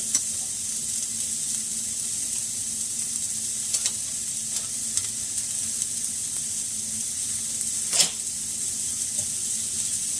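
Butter sizzles steadily in a pan as food is sautéed, a constant bright frying hiss with occasional scraping and clinks of a utensil, close and alone with no talk.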